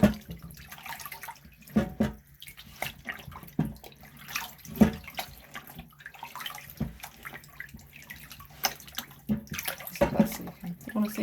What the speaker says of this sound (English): washing up. So I'll just keep doing this dribble now.